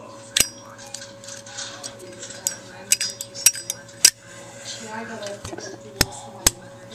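A Zippo lighter is handled during tricks, with sharp metallic clicks and clinks of the lid at irregular intervals over a faint steady hum.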